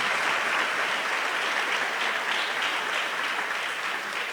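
A church congregation claps steadily for visiting guests, a dense and even wash of many hands that stays level for the whole stretch with no voices on top.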